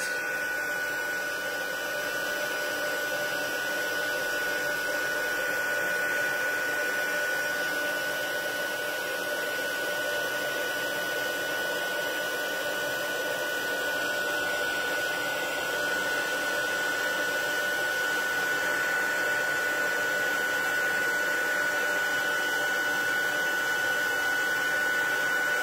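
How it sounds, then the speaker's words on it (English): An embossing heat tool blows hot air steadily over a craft project, a constant close whirring hum with a faint tonal whine that runs unbroken and evenly loud throughout. "As soon as it turns, you can move your heat tool along to do the next piece of your project."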